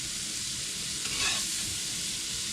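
Bluefin tuna sizzling in a hot pan, a steady close frying hiss throughout with a brief stir in the middle, no talking.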